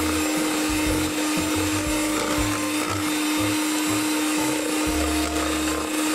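A hand mixer runs at low speed through tapioca cheese cookie dough, giving a steady motor whine with a low hum that pulses unevenly as the beaters work the mixture. It is continuous and fairly loud, with no talking.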